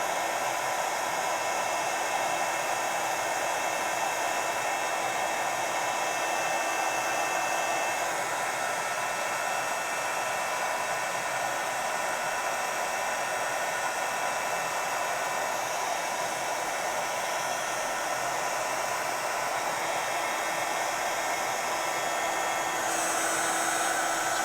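A heat tool blows continuously at close range, melting embossing powder and glazes and drying pastes on a mixed-media vintage journal page. It is a loud, steady whooshing hum that holds unchanged for the whole stretch, with no voices.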